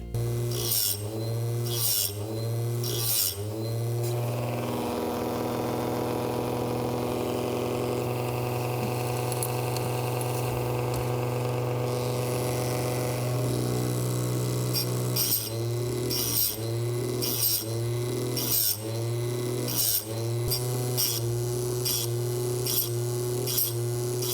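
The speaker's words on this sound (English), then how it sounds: "we grind half the chain first, and then we'll have to change the angle and grind the other half afterwards" An electric chain grinder sharpens the teeth of a chainsaw chain, skipping every other tooth, with repeated short rasping grinds in a steady rhythm over a constant motor whine, a longer continuous stretch in the middle, all close and loud.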